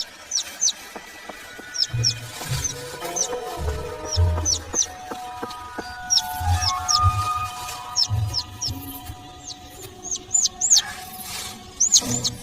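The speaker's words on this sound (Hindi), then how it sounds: "ओह, एक नन्हा सा पंछी।" Small bird in a Hindi cartoon chirping in quick, high paired tweets repeated across the clip, over low thumps and background music-like tones.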